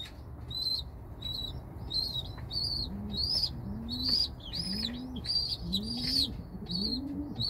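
Homing pigeons coo in a loft, with a steady series of soft, rising coos. Bright chirps from small birds repeat above them.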